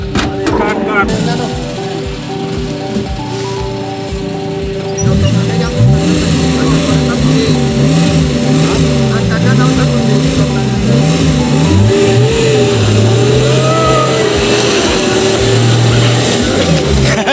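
A car engine revs on a forest road near Udaipur, Tripura, its pitch rising and falling in loud, close surges under occasional background voices.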